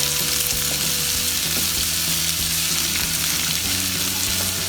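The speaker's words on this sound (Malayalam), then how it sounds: "സവാള നീളത്തിൽ അരിഞ്ഞിട്ട് കൊടുക്കാം. ഹൈ ഫ്ലെയിമിൽ വെച്ചിട്ട് വേണം ഇത്" Lengthwise-sliced onion fries on a high flame for an Indo-Chinese dragon chicken, a dense continuous sizzle up close with occasional stirring, no voices.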